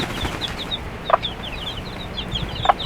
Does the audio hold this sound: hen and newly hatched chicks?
yes